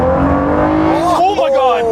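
Ford GT Heritage Edition V6 engine snarling as gears drop on a downshift, a rising raspy rev with a brief blip, loud and close, with a voice talking over it.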